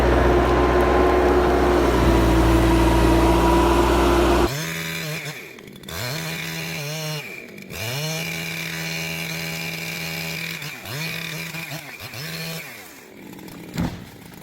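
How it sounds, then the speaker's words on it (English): Husqvarna 3120 XP chainsaw cutting through massive logs: a loud steady high-revving whine at first, then repeated revs that dip and rise as the bar bites into the wood, close and alone. "Meet the beast, the Husqvarna 3120 XP, one of the most powerful chainsaws in the world."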